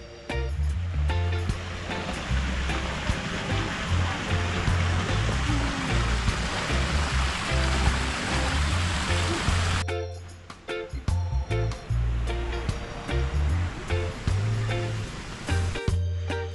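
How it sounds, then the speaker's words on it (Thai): A small waterfall and stream run through a cafe garden in the rain, giving a steady loud rush of falling water for the whole stretch, with no voices. "ก็จะเป็นน้ำตกเล็กๆแล้วก็ลำธารล้อมๆร้านเลยนะคะ"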